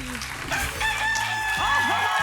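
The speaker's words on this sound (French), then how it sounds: "Un chant du coq, ça signifie qu'on a droit à un deuxième œuf." Rooster crowing sound effect on the French TV game show La poule aux oeufs d'or, a clear cock-a-doodle-doo call over studio murmur and brief voices.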